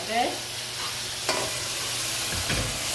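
Red bean stew mixture stirred in a hot pot for a Trinidad Sunday lunch, giving a soft steady scraping sizzle with a couple of brief spoon knocks against the pot, close and without talk.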